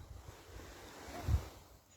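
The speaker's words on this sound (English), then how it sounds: "Peaceful lapping of the water." Soft, quiet lapping of water with a low wash of wind and a single gentle slosh; calm and faint, no voices.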